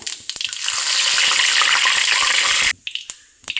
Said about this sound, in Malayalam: ഇപ്പം നമ്മുടെ വെളിച്ചെണ്ണ നന്നായിട്ട് ചൂടായി വന്നിട്ടുണ്ട് അതിലേക്ക് ഒരു അര ടീസ്പൂൺ വലിയ ജീരകം ഒരു തണ്ട് കറിവേപ്പില